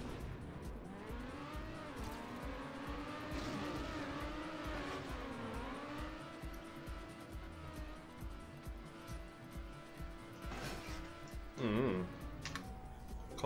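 A car engine revs and drones in the stunt racing game TrackMania United, its pitch rising and falling steadily over several seconds, with a sharp surge and squeal near the end.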